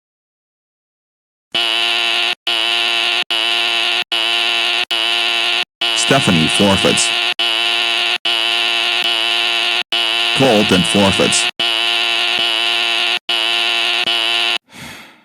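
Game show buzzers pressed over and over, producing a loud, harsh electronic tone in long blasts with brief gaps between them, while an announcer's voice speaks over two of the blasts.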